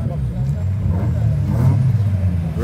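A Toyota Fila car's engine hums and revs at a Jamaican street race in Montego Bay, a steady mid-pitched drone running under continuous talk.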